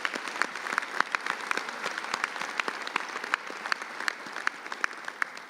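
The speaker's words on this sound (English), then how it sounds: "let's give a round of applause to our graduates" Sustained round of clapping from a commencement crowd honoring graduates at a winter ceremony, dense and steady with sharp individual claps standing out throughout, no voices over it.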